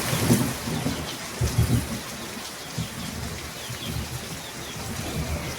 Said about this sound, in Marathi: पाऊस एकदम जोरात जोरात घडघडायला लागलाय